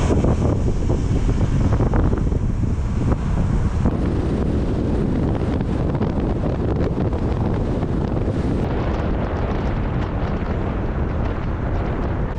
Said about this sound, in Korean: 바람이 너무 많이 부는데